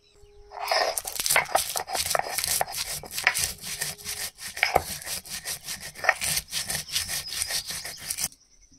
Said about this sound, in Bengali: ভাজা মশলাগুলো শিলনোড়ায় গুঁড়ো করে নেব